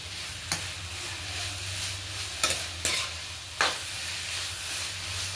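Carrot halwa with sugar is stirred in a pan under a soft, continuous sizzle, with a few sharp scraping strokes of the spoon against the pan.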